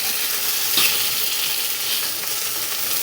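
Chicken wings sizzle steadily on a Weber grill with a porcelain grate, a loud, even crackling hiss with small pops, with no talk.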